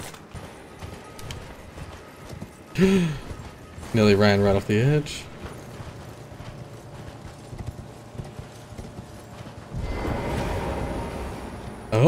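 Horse hooves clip-clopping in the open-world game Elden Ring, rhythmic and fairly close, broken by louder bursts and a whinny-like call, with a person talking over it.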